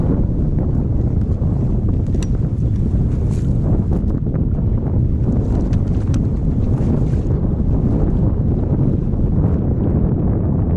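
Strong wind roars steadily across a lake while fishing from a boat, a dense, continuous low rumble of gusts buffeting the microphone with water and hull noise beneath it and no talking.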